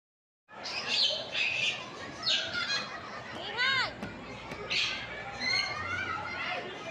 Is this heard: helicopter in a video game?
no